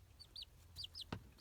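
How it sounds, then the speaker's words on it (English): Baby chicks peep in short high chirps, several scattered calls at moderate distance, with a brief low bump partway through, quiet room with no talking. "you can also hear the chicks"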